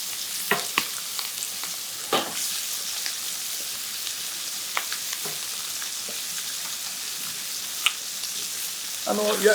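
Chicken thighs sear in a pan over constant high heat for a dark beer stew, giving a steady close sizzle with scattered pops and a few utensil clinks near the end, without talk.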